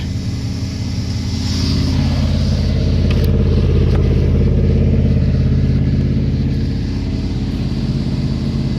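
A car idles in park with new spark plugs and wires fitted, a steady, loud, close engine rumble that rises slightly and holds an even drone with no talking.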